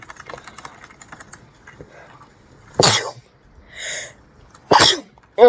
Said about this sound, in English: I hate sneezing, it's really lame